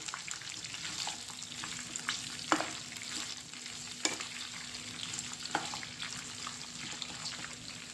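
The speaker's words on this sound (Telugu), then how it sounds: "ఇవన్నీ మళ్ళీ బాగా కలపాలి." Ivy gourd and ginger fry being stirred in a hot pan, with a continuous sizzle and a few sharp scrapes and clinks of the spoon against the pan, close and alone.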